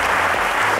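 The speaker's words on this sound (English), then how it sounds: "let's give them another round of applause." Dense studio audience applause at a televised quiz show, loud and continuous throughout with no voices over it.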